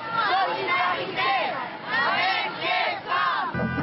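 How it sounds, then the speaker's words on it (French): Dense crowd of demonstrators at a European Social Forum march, loud and close, with rhythmic waves of chanting and shouting rising and falling several times over a constant roar of voices. "Une foule très dense avec des revendications très diverses"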